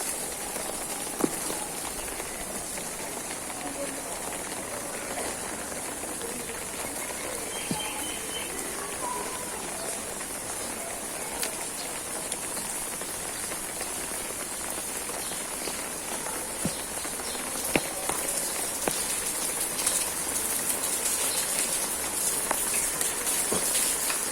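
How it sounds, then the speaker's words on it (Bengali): Steady, unbroken rain falls outside a house in Feni during flooding, a constant close hiss of drops on surfaces with a few faint bird calls behind it. "একটানা বৃষ্টি হতেছে"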